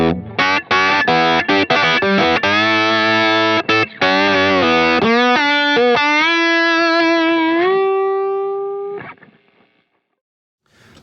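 Overdriven slide guitar on the bridge pickup through a Line 6 Helix, loud and bright, with quick choppy notes giving way to longer sliding rises that hold and then fade to near silence at the end.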